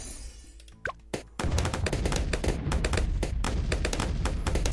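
Rapid popping of bloons burst by bomb fragments in the tower defense game Bloons TD6, a few isolated pops and a rising tone giving way to a dense, continuous crackle of overlapping pops.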